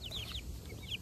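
Baby chicks, recently hatched under a mother hen and finished in an incubator, give several quick, high, sliding peeps in close succession over a low background hum.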